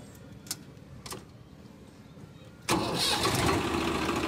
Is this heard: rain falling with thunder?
no